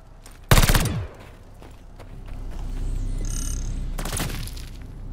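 Two short bursts of PPSh submachine gunfire ring out in the Call of Duty Vanguard Zombies video game, loud and rapid, separated by a quieter stretch of mechanical whirring and game effects.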